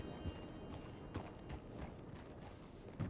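Horse hooves clip-clop in Red Dead Redemption 2, a few soft, distinct hoof thuds over a quiet background.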